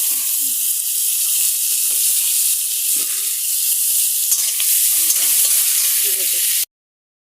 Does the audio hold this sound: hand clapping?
no